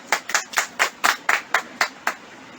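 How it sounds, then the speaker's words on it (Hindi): A church congregation claps in unison, about ten sharp, evenly spaced claps in a quick steady rhythm with nothing else over them. "सब जन ताली बजाएं।"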